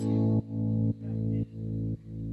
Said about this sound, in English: It is applying an auto cut, which is the pre EQ, and then unmask, which is the post reverb